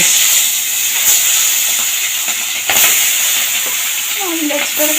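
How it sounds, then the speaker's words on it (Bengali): Fish frying in hot oil for a Bengali fish curry, a loud steady sizzle and hiss with sharp crackling bursts and spatters throughout, close and continuous with no voices. "এদিকে দেখুন তেলটা গরম হয়ে গেছে এবার একে একে মাছগুলো আমি ছেড়ে"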